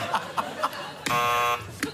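A few soft chuckles, then a single harsh game show buzzer blares for about half a second, followed by a brief laugh.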